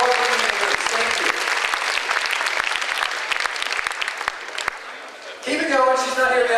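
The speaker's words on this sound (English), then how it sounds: "Give her a round of applause as she makes way" Audience applause at a mentalist's stage performance, dense continuous clapping from a room full of people that fades slightly before a voice speaks over it near the end.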